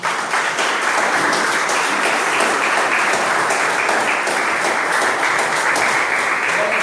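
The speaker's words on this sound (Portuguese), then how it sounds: "Vamos aplaudir o Senhor Jesus?" Loud, continuous applause from a church congregation, a thick wall of clapping hands held at an even level for several seconds with no speech over it.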